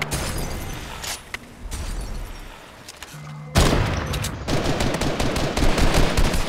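Rapid pistol gunfire in Fortnite crackles in quick bursts, growing louder and denser in the second half with overlapping shots and game effects.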